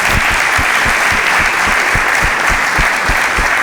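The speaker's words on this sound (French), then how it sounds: "est-ce qu'on peut applaudir très fort pour Patou?" An audience applauds loudly for a performer at a comedy show, dense continuous clapping close and full, with rhythmic thumps beneath.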